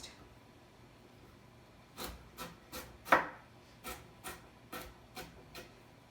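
Carrots chopped with a knife on a wooden board for Italian wedding soup, about a dozen crisp, fairly regular thumps at close range with one louder chop in the middle, no talking.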